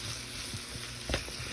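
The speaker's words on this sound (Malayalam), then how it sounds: "അപ്പോൾ നമ്മൾ ഉപ്പൊക്കെ ഇട്ട് നന്നായിട്ടൊന്ന് ഒന്ന് ചെറുതായിട്ട് വഴറ്റിയെടുക്കാതെ" Vegetables sautéing with salt in a pan for matar paneer, a steady close sizzle with a brief stirring scrape partway through, no voices.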